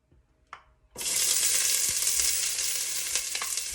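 Chopped onions hit a hot pan for a creole chicken sauce, bursting into a loud, steady sizzle after a brief clatter, frying continuously up close with occasional stirring.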